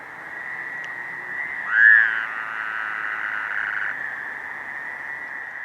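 A Fowler's toad gives a single sustained nasal trill at a breeding lake, steady and fairly close for several seconds, with a brief louder burst near the start of the call.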